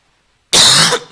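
One short, loud, harsh cough bursts out of silence from a man preaching a Bible lecture, close and dry, then fades quickly.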